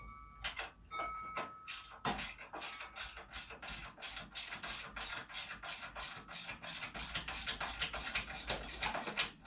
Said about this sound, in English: Let's just strip this bolt out.